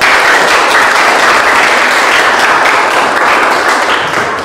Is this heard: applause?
yes